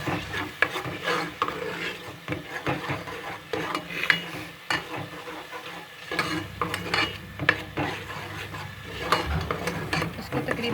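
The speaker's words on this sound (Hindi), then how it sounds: "अब मैं इसमें ऐड कर रही हूँ 1 चम्मच अदरक और 1 चम्मच लहसुन का पेस्ट। इसको भी हम प्याज के साथ ही फ्राई करेंगे।" Ginger and garlic paste frying with onions in a pan for fish curry, soft sizzling under repeated scraping and stirring strokes of a utensil, close and fairly quiet.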